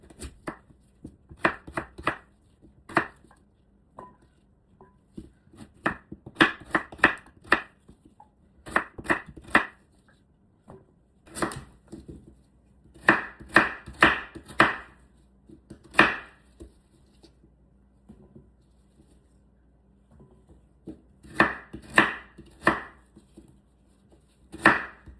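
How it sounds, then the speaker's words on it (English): A knife chops beetroot or pineapple into smaller pieces on a cutting board, in irregular bursts of sharp, close knocks separated by short pauses. "Then I'll cut it to smaller pieces."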